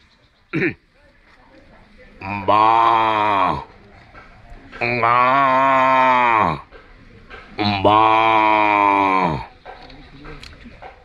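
A man mimics a big cow mooing: after a quick throat sound, three long, loud, drawn-out lowing calls follow one after another with short pauses between, close to the microphone.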